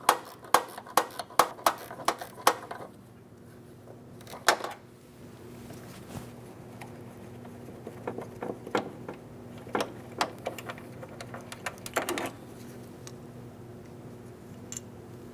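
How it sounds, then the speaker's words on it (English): Wrench working a lower door hinge bolt on a 2008-2016 Chrysler Town & Country, producing sharp metallic clicks and ratcheting taps, dense early then scattered, close and moderately loud with no talking. "Once you have it out far enough, you should be able to get the wrench on and you can finish removing it."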